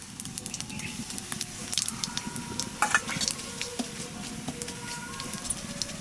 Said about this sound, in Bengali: ঘিয়ের উপরে দিয়ে দেবো জিরে, এবার দিয়ে দেবো কোটা ধনে